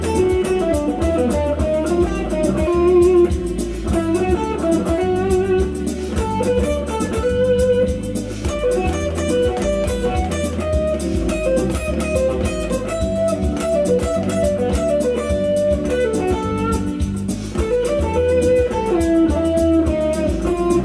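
Guitar runs through a pentatonic scale over a 2-5-1 chord progression with full backing, steady and dense from start to finish without any talking.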